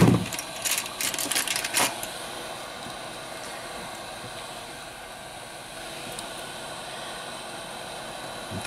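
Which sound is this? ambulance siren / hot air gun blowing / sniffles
hot air gun blowing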